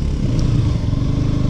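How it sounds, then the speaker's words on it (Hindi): A motorcycle engine roars loud and close, held at full power with a steady throbbing rumble and no pauses, during a ride alongside a scooter. "अभी बाइक को भगाते फुल पावर"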